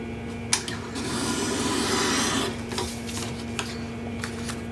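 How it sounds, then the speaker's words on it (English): Paper trimmer cutting a thin sliver off scrapbook paper, a steady scraping glide lasting about two seconds between a few sharp clicks and taps, close and fairly quiet with no talk. "Actually, looks like I need to trim that down just a tiny bit."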